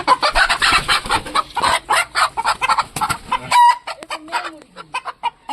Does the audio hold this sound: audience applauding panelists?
no